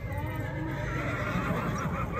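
A mare at a horse competition in Pakistan gives a loud, close whinny that rises and wavers for about two seconds, with faint hoof clatter and event noise behind it.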